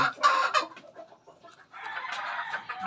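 Young Pure Raptor Sweater gamecock clucking up close, a few short raspy calls followed by a longer, fainter clucking stretch, with no other sounds around.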